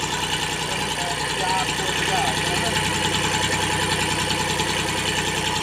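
A Kubota L2000 4x4 tractor runs its PTO in second gear, with a continuous, even diesel engine drone and vibration throughout and no break in the sound.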